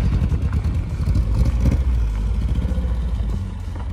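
Classic Mini car driving past with a busy engine rumble and rattling clatter, steady and fairly close throughout, the engine note swelling midway through without a distinct tyre squeal.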